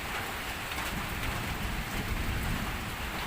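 Steady rain falls, a dense continuous patter with a broadband hiss, fairly close and unbroken throughout.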